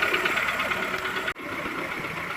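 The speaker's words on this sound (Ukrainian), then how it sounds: "Двигун працює, ми підгазовуємо періодично" A warmed-up Skoda Fabia engine, with radiator sealant just added and revved periodically, idles with a steady hum and faint knocking, running continuously with a brief dip partway through, fairly close and without talk.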